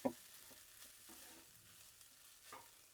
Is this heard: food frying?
yes